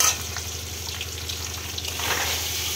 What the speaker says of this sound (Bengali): একটু ভালো করে কষিয়ে নিই।